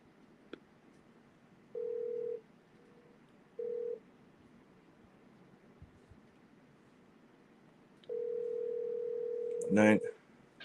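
Telephone tone while placing a call: short steady beeps repeat twice, then a longer sustained tone ends with a brief burst of ringing, faint and alone against low background hum.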